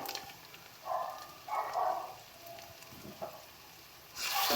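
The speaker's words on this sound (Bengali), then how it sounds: "দিয়ে সমস্তটা পেঁয়াজের সাথে মিশিয়ে মশলাটাকে ভালো মতন কষিয়ে নেব" Onions frying with green chili paste, ginger paste and turmeric give a faint, low sizzle that swells in a few short bursts as the pan is stirred, with a louder rush near the end.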